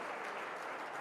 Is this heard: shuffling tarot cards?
no